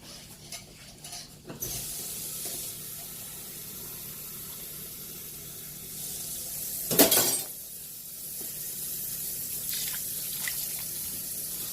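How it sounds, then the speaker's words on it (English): Water poured into a pot over macaroni noodles gives a steady, soft splashing rush, swelling into a louder splash around the middle before settling back to a continuous trickle. "what we're going to do now is just cover the rest of it with just some water"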